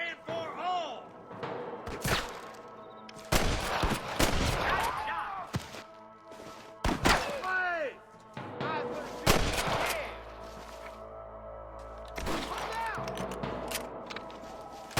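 Sniper gunfire in Red Dead Redemption rings out as a series of sharp, loud cracks with echoing tails, spaced irregularly among shouting voices and thumps.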